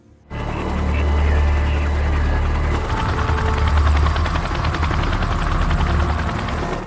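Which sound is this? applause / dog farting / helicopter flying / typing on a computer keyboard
helicopter flying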